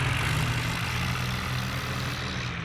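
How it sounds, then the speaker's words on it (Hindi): Video game tractor engine chugging at a steady low rumble with broad noisy hiss over it, continuous and fairly loud throughout, with no talking. "अपने ट्रैक्टर से लेकर चलते हैं"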